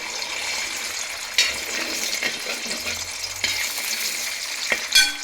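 Four eggs frying in well-heated sunflower oil, a continuous close sizzle and crackle with a few louder spits and pops and occasional utensil sounds.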